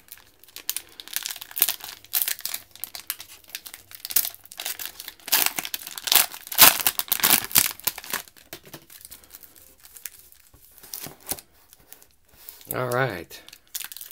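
Crinkly cellophane wrapper of a 2019-20 Donruss Optic basketball value pack being torn open and crumpled, a steady run of close, bright crackling rustles, with someone talking over parts of it.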